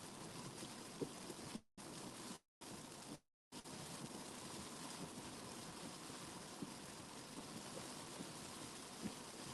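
Heavy rain falls steadily outside as a dense, continuous hiss, fairly quiet overall, broken by a few brief dropouts.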